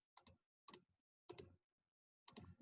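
Calculator keys being pressed while numbers are entered: four short, quiet bursts of clicking taps spaced irregularly over a few seconds, close by, with no talk.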